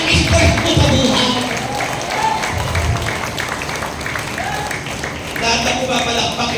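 A church congregation applauding at a healing service in Calamba City, producing sustained dense clapping from a crowd with voices mixed in, loud and steady throughout.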